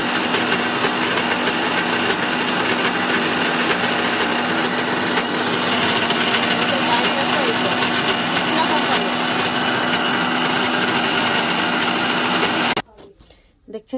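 An electric grinder blends lentil paste with cumin and chilli, a loud, steady motor whine that holds evenly for a long stretch before stopping suddenly.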